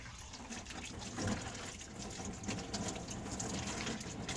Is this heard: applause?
no